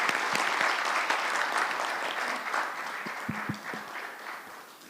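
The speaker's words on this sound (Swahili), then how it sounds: "Hiyo makofi haijatosha" Audience applause following a speech at the launch of a Kenyan justice administration report, with sustained clapping from a large crowd that gradually thins and fades toward the end.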